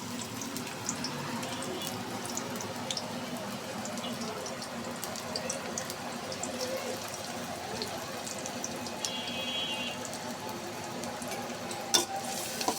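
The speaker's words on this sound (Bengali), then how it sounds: "কড়াইতে তেল দিয়ে দিছি তেল গরম হয়ে গেছে এখন পেঁয়াজে কুচি দিয়ে দেবো" Soft, steady sizzling of chopped onion frying in hot oil, with occasional stirring clinks and scrapes, fairly quiet and continuous.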